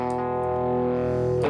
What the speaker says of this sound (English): This says raw distortion, but it's modeled after a Proco Rat pedal.